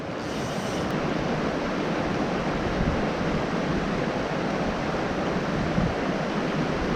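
Fast creek current rushing over rocks on a wet day of trout fishing, a steady broadband wash of flowing water, close and constant with no talking.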